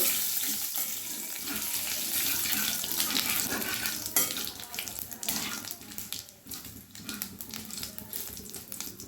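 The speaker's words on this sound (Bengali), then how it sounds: "ফোড়নটা একটু ভেজে নেব।" Dried chilli, cumin and bay leaf sizzling in hot mustard oil in a pan, a close, fizzing crackle that surges and thins, with brief clatters of stirring and no talk.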